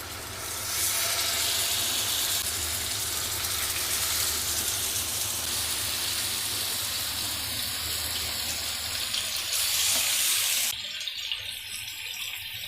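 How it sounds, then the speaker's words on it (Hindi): Chicken tikka pieces laid on a griddle in hot oil give a loud, dense, steady sizzle and hiss that runs almost unbroken, easing briefly near the end, with no voices. "ऑयल गर्म हो चुका है, इस पर हम रख देते हैं चिकन के पीसेस।"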